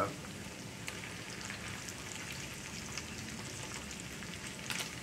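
Thick bacon strips frying in a pan give off a steady, dense crackle and spit that runs unbroken from start to finish at moderate volume, with no talking.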